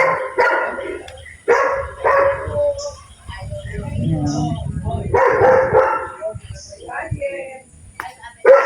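Dogs bark in short bursts a little way off, mixed with people talking nearby and a low rumble of outdoor background noise, on rural land by a large river in Silang, Cavite.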